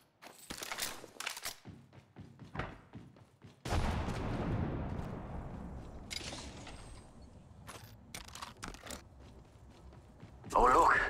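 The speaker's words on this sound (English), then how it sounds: "They're shooting at me." Scattered gunshots and bursts of fire from the mobile battle royale game Apex Legends Mobile ring out, with mechanical clicks and a longer rumbling stretch in between.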